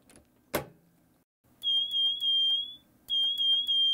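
A dye sublimation heat press, set to 385 and light pressure for 30 seconds on a fleece burp pad, finishes its cycle with two long, clear electronic beeps after a faint click, close by with no talking.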